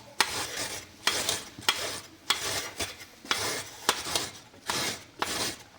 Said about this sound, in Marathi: आपण ही हळद खिसणीने खिसून घेऊया.